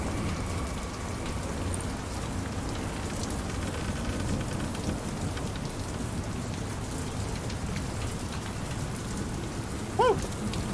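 Heavy rain pounds steadily on surfaces, a dense, loud, unbroken hiss of drops lasting the whole time, with a brief faint tonal chirp near the end.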